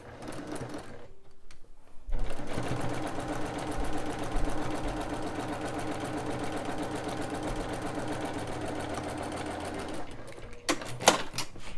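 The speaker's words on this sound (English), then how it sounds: "go ahead and sew on, or this section, sew on the corner block. And this is just a regular seam" A sewing machine stitching a regular seam to join a corner block on a quilt block, with a steady close mechanical whir that runs for about eight seconds and then stops, followed by a few clicks.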